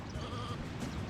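A sheep bleats in the video game Sheep Raider, one short wavering cry at moderate level with no talk over it.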